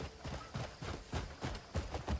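A sturdy horse trots in the game Crimson Desert, with a steady run of quick, fairly soft hoof clip-clops, about six evenly spaced beats, heard alone.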